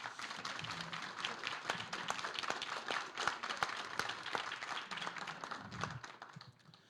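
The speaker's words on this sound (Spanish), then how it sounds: "por favor, un aplauso al festival" An audience at a literary festival in Guatemala applauds with dense, steady clapping that holds for several seconds before tapering off near the end, heard from within a fairly quiet room.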